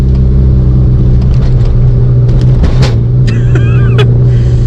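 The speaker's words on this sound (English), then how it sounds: "literally the whole car jumps over these now, which is really unpleasant" A car rolls over a set of light speed bumps at about 20 mph, with a steady loud engine and road drone and a few brief thumps and jolts as the wheels cross, plus wind noise on the microphone.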